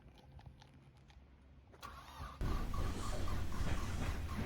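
A modified 1997 Nissan 200SX SE-R cranks and fires up loudly and close by after a quieter stretch, then settles into a rough, steady, throaty idle.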